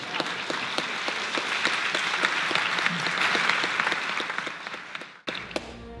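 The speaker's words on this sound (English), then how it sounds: "So give yourselves a round of applause." Applause from an audience at a film premiere, a dense, sustained burst of clapping that holds steady for several seconds, then cuts off abruptly into a brief quieter moment.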